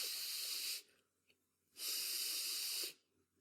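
A human voice imitates a hissing sound while demonstrating the German 'ch' pronunciation. Two long, breathy hisses are made up close, separated by a short silence.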